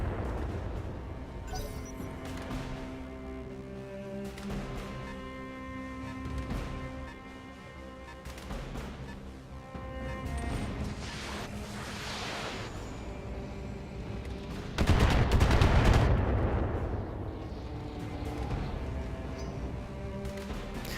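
Weapon fire from giant mechs in a BattleTech video game: a dense run of booming shots and crashing impacts, with a louder, heavier blast about two-thirds of the way through, set against a steady game soundtrack.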